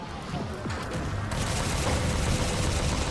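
Video game gunfire in Halo 4: dense, continuous bursts of shots and explosive crashes over a busy, noisy battle bed, loud and sustained throughout.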